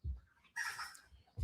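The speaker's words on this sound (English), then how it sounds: "The noise you hear are chickens running all around" Chickens running around cluck and squawk in a brief, busy burst, fairly close, with low rustling thumps before and after.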